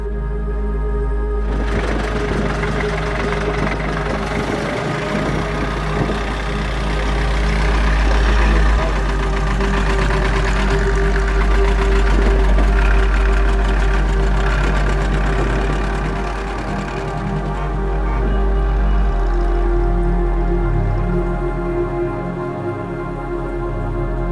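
Tractor engines idle at the summit of the Oberalp Pass in the Swiss Alps, a loud, steady, knocking diesel rumble that carries on without a break, rising and falling slightly in strength.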